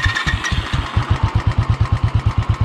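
A motorcycle engine runs during a ride on the Kutch desert roads, sputtering unevenly at first, then settling into a loud, rapid, regular pulsing thrum up close as the throttle is given.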